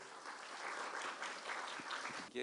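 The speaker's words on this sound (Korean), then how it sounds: "여러분 힘찬 박수 부탁드리겠습니다." An audience at a 2017 Korean expert forum on internet trends gives brief, fairly quiet applause, a dense patter of clapping for about two seconds before a voice starts at the very end.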